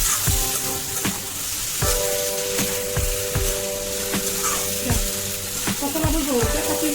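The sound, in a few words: frying and stirring mashed raw banana stem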